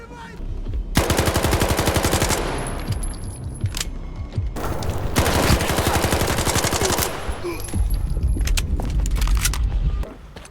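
Automatic gunfire in the shooter game S.T.A.L.K.E.R. 2 rattles out in two long, loud bursts separated by a short pause, followed by scattered shots and mechanical clatter.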